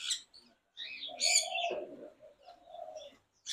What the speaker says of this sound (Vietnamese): Đấy, họa mi.